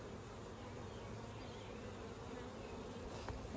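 Honey bees swarm around an open hive, a dense steady buzz of many insects filling the space with no pause, close by and moderately loud.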